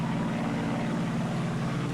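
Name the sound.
Liberator long-range bomber plane in video game Silent Hunter 3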